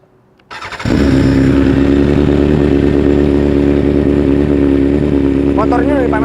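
A BMW S1000RR motorcycle with a full-system aftermarket racing exhaust fires up and settles into a loud, steady, close-up roar that holds without a break, with a brief higher whine near the end.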